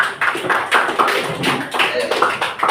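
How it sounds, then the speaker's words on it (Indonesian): A classroom audience claps together in steady, dense applause, close and lively, with some voices mixed into the clapping. "Silakan tepuk tangan."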